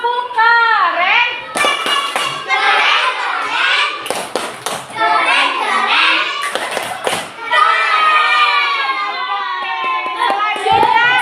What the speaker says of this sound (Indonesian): Tepuk keren buat kelompok 2.